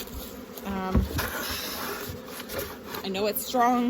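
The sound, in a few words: honey bees buzzing at an open hive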